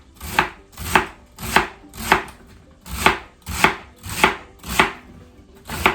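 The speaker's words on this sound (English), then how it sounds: "I just start at the top, guys, and just chop it" A knife chops celery on a cutting board in ten evenly spaced, loud, close strikes, each with a crisp crunch and a short ring, with no talking.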